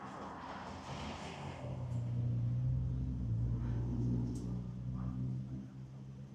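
A heavy Lincoln Navigator drives past on a Los Angeles street with a low engine rumble that swells toward the middle and eases off, heard at moderate distance amid outdoor street noise.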